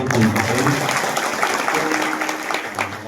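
An audience at a Hindu kirtan gathering during a week-long harinaam saptah claps together in a steady, dense burst of applause, fairly loud and continuous across the moment with some crowd murmur.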